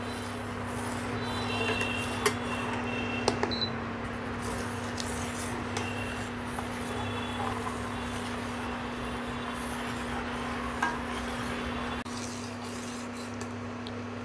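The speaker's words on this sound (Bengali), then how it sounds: "আর কাস্টার্ডটা দিয়েই অনবরত নাড়তে হবে" Custard stirred continuously in a pan on the stove, a steady scraping and rubbing of utensil against metal with faint clinks, over a constant low hum throughout.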